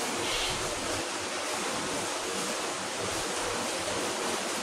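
Hot water poured into a kadhai of drumstick curry, a dense, continuous rushing splash that stays loud and even throughout.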